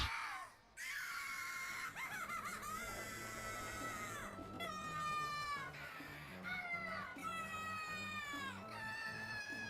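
A video game character screams in a long series of high, wavering cries while falling, loud and continuous over game noise, with brief breaks between yells.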